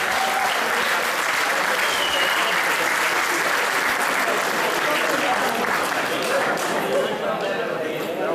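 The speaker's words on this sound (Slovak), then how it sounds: "Veľký potlesk." A large crowd at a Slovak Fašangy carnival celebration claps loudly and steadily, a dense, sustained round of applause that fills the whole stretch without letting up.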